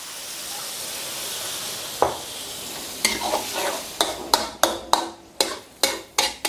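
Mortar-rinsing water poured into a hot pan of chicken wings brings a steady frying hiss, then a run of sharp, rhythmic stirring scrapes roughly every half second.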